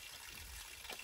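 Natural mountain spring water flows in Uttarakhand, a soft continuous trickling wash, faint and steady, with a slight splash near the end.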